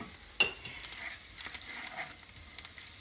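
Bacon grease melting in a pan for sausage gravy gives a faint, steady sizzle with a soft crackle throughout and one sharp utensil clink early on.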